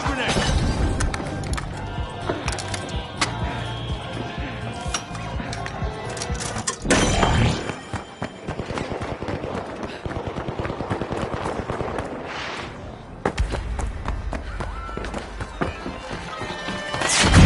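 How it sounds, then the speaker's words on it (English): Pyro grenade thrown and burning in the video game THE FINALS, heard as a dense crackling, popping burst with sharp bangs over busy game noise, ending in a loud flare. "Throwing pyro grenade."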